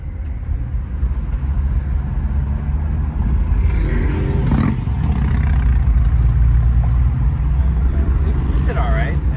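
A 1979 Dodge Aspen, a low-mileage original car, drives along with a steady, loud engine and road drone throughout, swelling slightly as it accelerates mid-way, with occasional rattles and brief voices over it.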